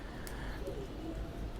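Soft, low cooing from caged pigeons kept in pairs at a home loft setup, faint and repeated over a steady background hum.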